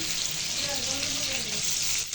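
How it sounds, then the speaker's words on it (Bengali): Pieces of pangas fish fry in a pan, giving a steady, even sizzle with faint crackles that holds for about two seconds, close and alone without voices. "আর মাছগুলো ভালো করে ভেজে নিতে হবে।"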